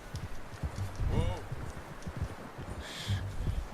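Horse hooves clip-clopping at an easy pace in Red Dead Redemption 2, a steady rhythmic patter close by under game ambience, with someone speaking briefly over it.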